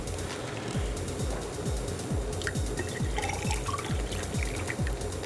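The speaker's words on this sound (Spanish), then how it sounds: "Echa el agua." Water poured steadily into a glass at close range, a continuous liquid splash with gurgling pulses, alone with no voices.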